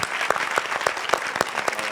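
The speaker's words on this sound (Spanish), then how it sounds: "Un aplauso, por favor." A cinema audience applauds steadily after a Robot Dreams screening, with brisk, evenly spaced claps from a modest crowd continuing throughout.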